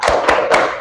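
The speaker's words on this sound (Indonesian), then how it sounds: "Kita tepuk fokus dulu, boleh?" A class of schoolchildren performs a 'tepuk fokus' clapping routine, three quick, loud group claps spaced evenly under a second, with no speech.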